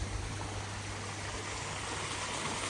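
Water from a garden pond's waterfall and stream, trickling and splashing in a steady, even wash throughout with a faint pump hum beneath, heard close by and with no voices.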